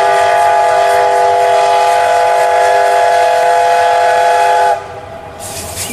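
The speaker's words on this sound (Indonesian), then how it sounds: "Wow, ada train teman-teman." A red toy train plays a loud, steady train whistle tone with a rumbling rail hum beneath, holding for several seconds before cutting off abruptly.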